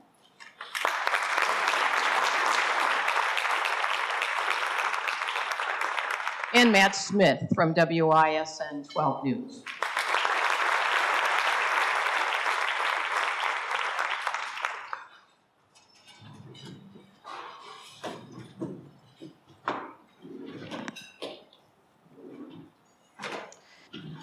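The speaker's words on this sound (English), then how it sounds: "Yeah, you can applaud." Two bursts of audience applause at a Milwaukee newsmaker luncheon, each lasting several seconds with a brief gap of talk between them, followed by someone speaking alone over a quiet room.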